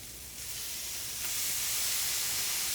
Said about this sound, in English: that makes it sizzle like when you go to the restaurants and order fajita